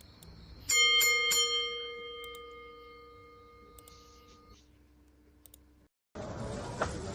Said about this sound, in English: now ring the bell. Ringing the bell. Ringing the bell.